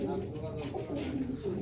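Pigeons coo softly and continuously in a loft, with faint voices in the background.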